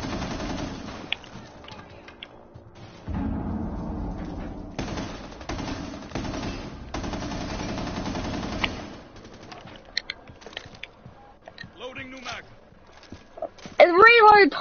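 Rapid automatic gunfire crackles in the tactical shooter Rainbow Six Siege, loud bursts separated by quieter stretches of footsteps and game noise, with a player talking at times.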